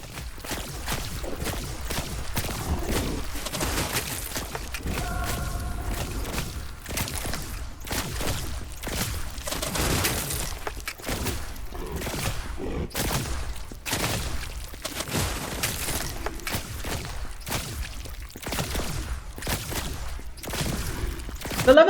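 Rapid gunfire from two weapons firing at once in the first-person shooter game Arms of God, a dense run of sharp shots over busy game noise, with a brief humming tone early on.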